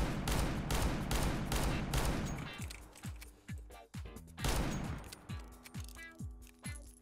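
An R8 revolver in CS:GO fires in rapid bursts, first a dense loud stream of shots, then separate booming shots with ringing tails, a second fast burst and more spaced single shots.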